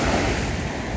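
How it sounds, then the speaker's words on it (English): Gentle ocean waves wash onto a bright sandy beach with aqua-turquoise water, a steady soft surf hiss with some wind noise against the microphone, no talking. "Gentle waves."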